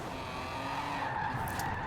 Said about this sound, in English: that was a good drift